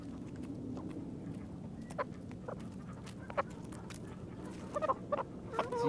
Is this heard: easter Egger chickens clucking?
yes